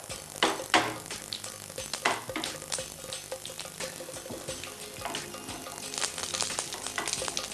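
Mustard seeds and chillies crackle in hot coconut oil, a fairly faint, continuous sizzle broken by small pops and a few sharper spits early on.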